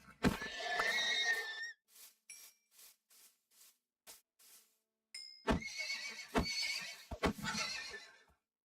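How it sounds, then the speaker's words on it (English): Several horse whinnies and neighs from a video game horse, loud bursts at the start and end with short rhythmic snorts and clip-clop-like thumps in between, no talking. "You're a pretty horsey"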